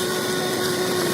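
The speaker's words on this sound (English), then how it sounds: "I'll just give that a little hoover out, I think." A DeWalt vacuum runs steadily while hoovering out the oil filter housing of a Peugeot Partner van, a continuous close motor whine with a fixed tone and no talk over it.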